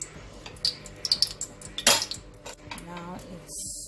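A spoon clinks and scrapes against a pot while onions cook in palm oil for yam porridge, with irregular metallic taps and scrapes up close and one louder clatter midway, no talking.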